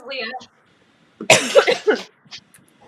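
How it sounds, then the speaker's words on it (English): A person clears their throat with a rough, coughing rasp, a brief burst close to the microphone between moments of quiet and muffled speech. "I had to take a sip of my tea there to clear my throat"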